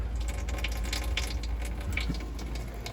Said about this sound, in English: And we running the faucet as we speak. So all the water is going to come out of this tank here.